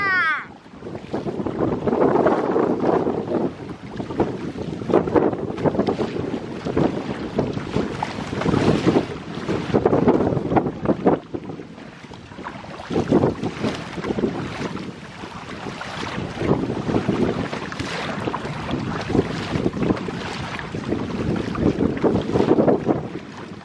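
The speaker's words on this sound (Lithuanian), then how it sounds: "Palauk, kad parodysiu tikrą vėją." Strong wind buffets the microphone on a small paddling boat out on the water, a loud, continuous roar that swells and fades in gusts for the whole stretch.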